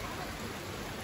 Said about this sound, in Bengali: দুপুর টাইমের বৃষ্টি, জানলা দিয়ে ভিডিও করতেছি